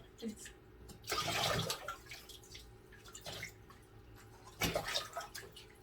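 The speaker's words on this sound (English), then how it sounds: "I'll give her some fresh water" Water is poured onto a potted orchid in two short splashing bursts, with soft trickling and drips in between, faint and close.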